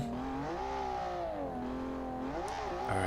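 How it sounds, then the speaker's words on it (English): A Class 7 Baja race vehicle's engine drones close by with a harsh exhaust note, its pitch rising, dipping and climbing again as the revs change, with a sharper burst near the end. "Oh my goodness, that exhaust note is horrendous."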